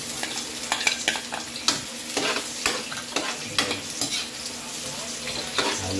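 Chicken feet and garlic sizzle in a frying pan while a utensil stirs and scrapes, giving repeated clinks over a steady frying hiss, close and without talk.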